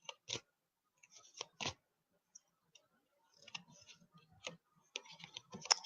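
Tarot cards shuffled by hand up close, sparse soft clicks and papery riffles in scattered bursts with quiet gaps, growing busier toward the end.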